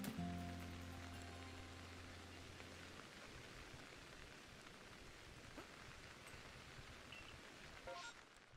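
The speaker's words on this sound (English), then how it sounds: "Oh no, it's raining?" Rain falling in the video game Pokemon Legends: Arceus, a steady hiss of rainfall that starts with a brief tonal game sound and stays constant, with faint soft chimes near the end.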